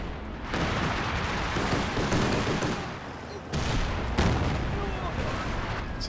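Explosions tear apart a mortar pit in Company of Heroes 2 amid a running battle: steady rumbling blasts and scattered gunfire, with sharp loud bursts near the middle, under a commentator's talk.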